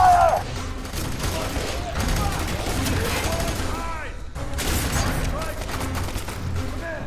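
Rapid bursts of automatic gunfire and explosive shots in the first-person shooter FEAR 3, loud and dense with short pauses, while voices shout over the combat.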